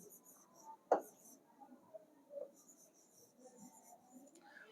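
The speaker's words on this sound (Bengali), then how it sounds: "একবার লিখে দিই" Handwriting during a Quran grammar class comes through as faint, sparse scratchy strokes, with one sharp tap near the start, in a quiet room.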